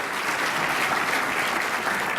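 Enthusiastic audience applause and cheering for business award honorees at a 40 Under 40 ceremony, a dense, loud wash of clapping from a large crowd, sustained without break.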